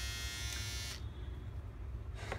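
A NOVA NG 1175 hair and beard trimmer runs with a steady, close electric buzz, briefly interrupted by a short click or handling sound partway through, heard alone without talk.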